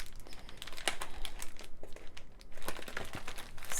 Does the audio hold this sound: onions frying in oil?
no